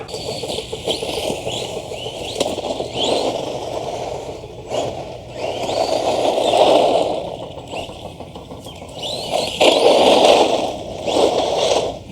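A DEERC 209E brushless RC basher car runs at full throttle over grass, giving a rising and falling whine with rattling and scraping from its bouncy, non-oil-filled suspension, heard alone and fairly loud.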